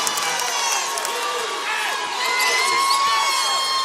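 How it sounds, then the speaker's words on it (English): A basketball crowd at the 2017 Bellarmine versus Findlay Midwest regional final roars and cheers loudly and continuously, with a commentator's voice faintly under the noise. "here comes the crowd again"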